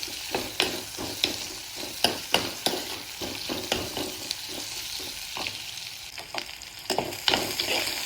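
Okra frying in a pan for Mangalore-style pulimunchi, with steady sizzling broken by repeated sharp scrapes and clacks of a spoon stirring, close and fairly loud throughout.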